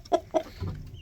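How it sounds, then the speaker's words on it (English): A rooster on a farm gives two quick, close clucks followed by a lower, softer murmur, brief and clear against a quiet background. "He's such a pansy for a rooster."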